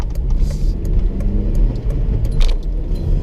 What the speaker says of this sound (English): there's a lot of cars